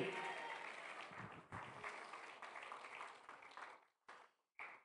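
Applause from a church audience at an evangelistic campaign service in Fairfield, Ohio fills the space as dense, sustained clapping that gradually thins out and then breaks off in short bursts at the end.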